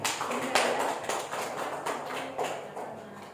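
Classroom applause for a student, a short burst of close hand claps that is uneven and sparse, fading after a few seconds.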